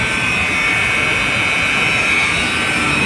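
A new motor on a 200 HP pump runs with a loud, steady whine and a constant broadband roar, with no breaks and a prominent high tone.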